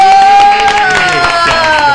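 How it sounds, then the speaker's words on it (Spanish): Studio audience applauds and cheers a guest at a live esoteric-themed roast show, a loud, steady wash of clapping and crowd noise under a ringing tonal layer that holds throughout. "vamos a darle un fuerte aplauso"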